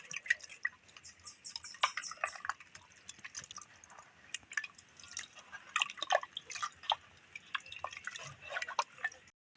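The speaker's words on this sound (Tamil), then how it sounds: "நான் கரைச்சி தயிர் ஊற்றி கரைச்சிட்டு வரேன்" Curd is poured into millet kali and stirred, giving faint, close wet squishing, dripping and sloshing sounds in an irregular rhythm with no talk.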